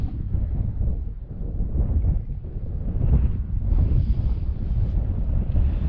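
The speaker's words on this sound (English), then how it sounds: "Temps dropped now, it's about 7 degrees, and you can feel it with that wind." Wind gusting across an exposed mountain wild camp in Langdale on a cold evening, a loud, steady low rumble buffeting the microphone, swelling and easing throughout with no voices.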